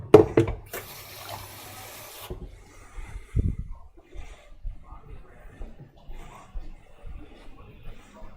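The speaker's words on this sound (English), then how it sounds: "I'm just gonna get a glass of water." A kitchen tap runs for about a second and a half, a brief steady hiss of water filling a glass, followed by quieter clinks, rustles and handling noises.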